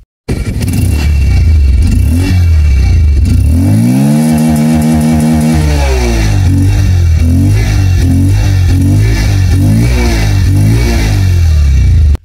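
A Bajaj Pulsar 150 single-disc motorcycle with a blacked-out exhaust heat shield is revved up. The engine is loud and close, rising to a high rev and dropping back, then followed by several quick throttle blips.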